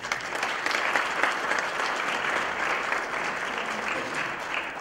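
Wedding guests inside a church break into sustained applause, a dense, even wash of many hands clapping that holds steady throughout without pause.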